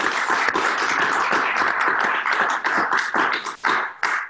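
A room of listeners at a discussion on American democracy breaks into applause, dense steady clapping that is close and loud and fades out in scattered claps near the end.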